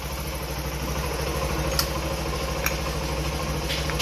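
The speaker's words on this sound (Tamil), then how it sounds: "அதேமாதிரி இந்த வண்டி பார்த்தீங்கன்னா பேஷன் ப்ரோ 110" A Hero Passion Pro 110 motorcycle with a throttle-body fault idles steadily up close, a low even engine drone with faint clatter and a few brief metallic clicks.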